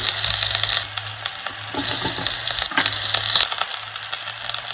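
Steady sizzling and crackling of ground coriander and chilli powder frying in hot coconut oil, with occasional stirring scrapes, close and fairly loud throughout.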